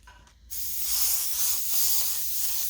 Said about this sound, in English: I'm going to spray that anyway.